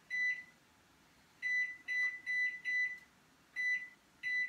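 Kitchen timer beeping as it is set for ten minutes during stovetop cooking, a series of short, high, clean electronic beeps, some in quick runs and others spaced apart, with no talking.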